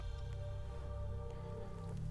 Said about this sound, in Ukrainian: Набираємо дві ємності чистої води